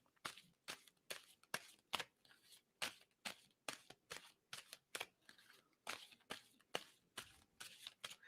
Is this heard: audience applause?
no